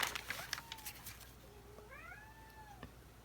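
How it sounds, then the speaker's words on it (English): A kitten gives a soft rising-and-falling trill, then a second longer trill a moment later, with faint rustling and light handling noises at the start; no voices. "That is one of the kittens trilling there."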